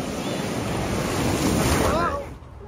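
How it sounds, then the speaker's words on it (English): Surf at Panama City beach on the Florida panhandle, under double red flag conditions, washes in as a loud, steady roar mixed with gusty wind noise, then drops off sharply near the end. "These nice waves."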